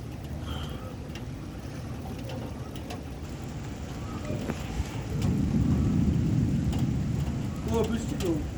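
Steady rain pouring outdoors, a dense even hiss that swells louder toward the end, with faint low rumbles that may be distant thunder and no talk.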